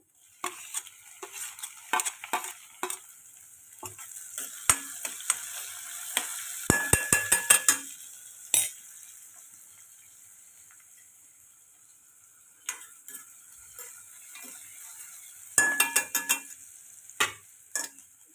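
Onion dropped into hot oil already holding garlic, cumin and mustard seeds for a dry potato dish, with bursts of crackling sizzle and stirring clatter coming and going, loudest in the middle and near the end.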